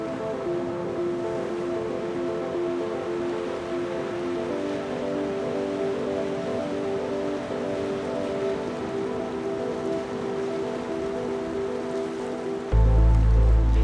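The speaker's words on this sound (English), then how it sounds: "hearing as the waves crash upon the rocks" Ocean waves crash onto rocks along a natural shoreline, a steady, loud wash of surf rushing continuously with no voices, then swelling into a heavier low rumble near the end.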